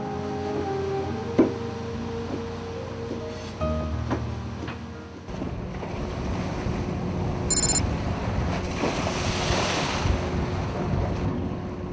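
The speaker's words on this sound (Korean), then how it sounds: "파도와 바람은 여전히 강하게 분다." Strong wind and heavy ocean waves surge around a 29-ton fishing boat at sea off Jeju, a loud, continuous rush with roaring gusts and wind buffeting the microphone, with no talking.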